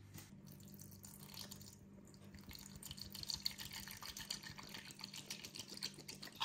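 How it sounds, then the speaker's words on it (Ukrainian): Soy sauce poured into a honey marinade in a steady trickling stream, close and quiet, running continuously with no talking. "І заливаємо все соєвим соусом."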